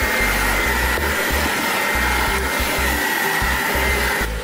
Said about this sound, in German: jetzt werde ich das Ganze 3 Minuten lang mischen